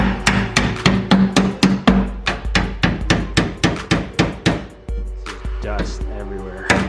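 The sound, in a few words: hammering metal tabs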